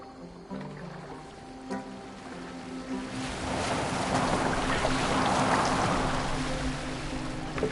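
Boat sailing on open water in Assassin's Creed Valhalla, with a steady wash of waves and wind that swells louder after a few seconds, under game music and brief talk at the start.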